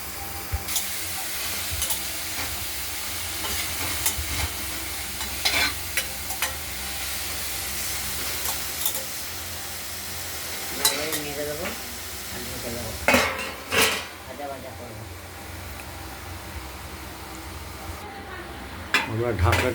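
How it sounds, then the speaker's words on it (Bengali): Snake gourd pieces stir-fried in a wok with black cumin and onion, stirred with a utensil: a steady low sizzle with scraping and clinking strokes, louder bursts of stirring near the end, and faint voices in the background. "আমরা ঢাকনাটি খুলে আরেকবার চিচিঙ্গাগুলোকে নেড়ে ছেড়ে দিলাম।"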